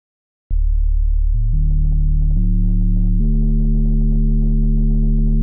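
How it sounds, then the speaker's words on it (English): A buzzy, almost square-wave tone from a DX7 synthesizer starts abruptly and holds, stepping up in pitch several times, loud and steady with no voices. "it's giving me this kind of weird, almost square wave type tone"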